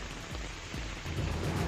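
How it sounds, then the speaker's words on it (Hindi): Heavy rain pours over Kozhikode city in Kerala, a steady dense hiss of downpour with a low rumble beneath, loud and continuous with no voices. "केरल के कोझिकोड शहर में भारी बारिश"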